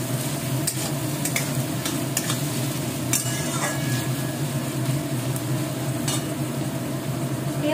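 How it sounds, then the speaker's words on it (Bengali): Onions frying in a pan with garlic, green chillies, grated ginger and spices, a continuous low sizzle under repeated stirring scrapes and light utensil clicks, close and steady. "পেঁয়াজ ভাজা হওয়াকালীন আমি মশলাগুলো ইনগ্রেডিয়েন্টগুলো দিয়ে দিলাম। দিয়ে একসাথে ভাজা করব।"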